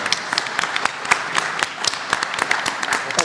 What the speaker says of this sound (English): Excellent, round of applause